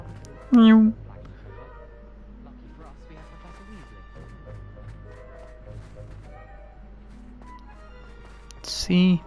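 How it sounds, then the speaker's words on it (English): Two loud, close meows from a cat in the video game Hogwarts Legacy, one near the start and another at the end, framing a quiet stretch of soft background sounds. "Meow."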